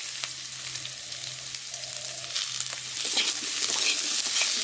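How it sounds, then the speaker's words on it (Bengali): Fish with potato, green chilies, salt and turmeric sizzling steadily in a frying pan, with soft scraping and stirring strokes that grow busier and a little louder toward the end. "নেড়ে নিই।"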